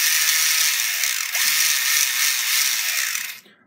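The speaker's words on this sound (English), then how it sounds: "The only noise that you're hearing right now is the bushings spinning at such a high RPM that it's just making all the noise" A fully shimmed airsoft M4 gearbox is spun up, its bushings whining loudly at high RPM in a steady, close mechanical drone, then quickly spinning down at the end.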